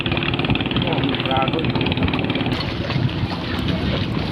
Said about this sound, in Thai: เรือก็จะวิ่งอยู่ตลอดเลยนะคะวิ่งไปมาไปมานะคะ